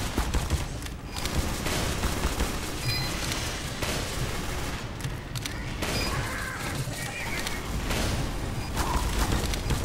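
Rapid, dense gunfire from a sentry turret in Team Fortress 2, loud and continuous with scattered bursts and booms layered over busy game noise.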